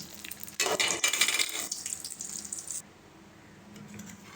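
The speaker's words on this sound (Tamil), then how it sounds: "நல்லா கறிகளும் எடுத்து தண்ணியில் போடணும்." Meat pieces are washed in water, with a couple of seconds of splashing and squishing up close before the sound drops to a faint, quiet trickle.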